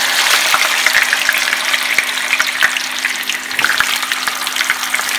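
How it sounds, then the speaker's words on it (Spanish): Boiled, dried potato pieces frying in hot oil, a dense close crackling sizzle with scattered pops throughout. "Así que vamos a freír nuestra papa."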